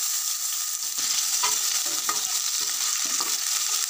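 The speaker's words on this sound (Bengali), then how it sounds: "তেলে দিচ্ছি কেটে রাখা আলু।" Cut potatoes drop into hot refined oil in a wok and fry with a loud, steady sizzle, with stirring scrapes and clatters running through it and no voices.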